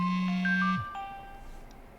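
A phone ringing in Inhuman Resources, a loud electronic ring tone that stops abruptly and gives way to fading high beeping tones, with no talk.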